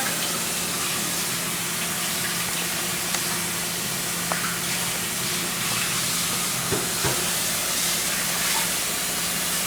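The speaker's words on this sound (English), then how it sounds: "Give it a nice good rinse, really hot water." Hot tap water runs over the parts of a Breville Juice Fountain Plus juicer as they are rinsed, giving a steady close hiss with a few faint clinks.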